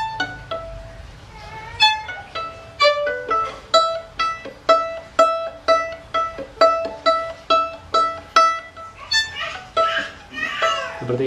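Violin notes plucked with the left hand in a quick, steady run of bright pizzicato, each note decaying fast, with faint background noise and a brief bowed flourish near the end.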